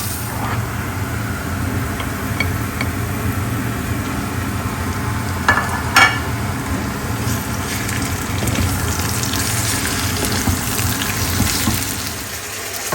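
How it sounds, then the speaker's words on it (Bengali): Food fries over high heat in a pan, a steady close sizzle with a constant hiss that runs throughout, broken by a couple of brief clatters midway, with no voices. "বেশি না, জাস্ট একটুখানি হাই হিটে 2-3 মিনিট ভেজে একটা ফ্লেভার আনবো"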